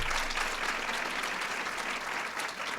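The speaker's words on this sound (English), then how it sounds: "let's give Holly and the entire committee a big round of applause" A crowd at a formal gathering applauds for a committee, a dense, even wash of clapping that holds steady and close throughout.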